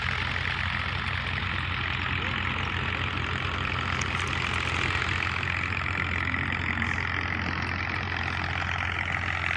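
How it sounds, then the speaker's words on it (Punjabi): Two tractors working a flood-silted field beside the Ravi river, one ploughing and one cutting channels, give a steady, continuous diesel engine drone with a low hum, constant and fairly close, with no talking. "ਦੋ ਟਰੈਕਟਰ ਇੱਥੇ ਬਾਈ ਹਲ ਚਲਾ ਰਹੇ ਨੇ"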